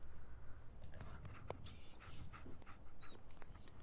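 A dog in the Fallout 4 video game pants in quick, soft breaths, fairly near, with a few faint whimpers and game ambience around it and no talk.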